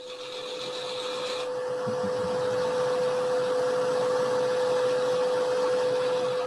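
A wood lathe spins steadily while a gouge cuts a trembleur, giving a loud continuous hum with one sustained tone. A higher whine fades out early and a rough scraping texture runs under it.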